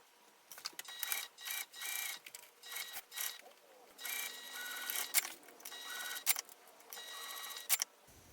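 A sewing machine stitches across a zipper tab in short, fairly quiet bursts of whirring mechanical clatter, stopping and starting repeatedly with brief pauses between runs.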